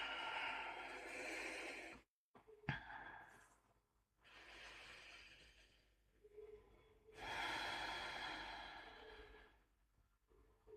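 Breathy yawns with long drawn-out exhalations during a relaxation stretch, two broad loud swells separated by quieter gasps and sniffs, close and without speech.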